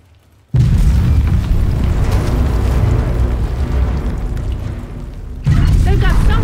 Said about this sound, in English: A mortar team is on standby to soften up the perimeter so you can get through.